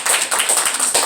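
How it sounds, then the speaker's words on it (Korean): A church congregation claps together during a service, a brief burst of fairly loud, steady, overlapping hand claps with no talking. "그래서 한번 박수 한번 해주시죠."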